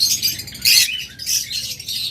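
Caged birds offered for sale chirp and tweet in short bright bursts, fairly close, with a low background murmur and no clear talk.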